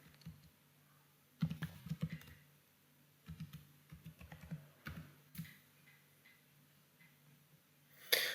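Fingers typing a password on a computer keyboard, quiet close keystrokes coming in short irregular bursts separated by brief pauses, with a final louder click at the end.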